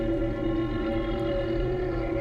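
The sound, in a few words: rumbling of the beast in Zelda: Breath of the Wild video game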